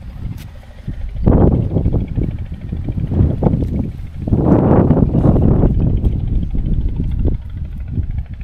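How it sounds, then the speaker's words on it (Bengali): Strong gusts of wind buffet an open outdoor spot on riverside char land, a loud roaring rumble that surges and fades in waves. "এখানে বন্ধুরা অনেক বাতাস, ঝড় আসবে মনে হচ্ছে"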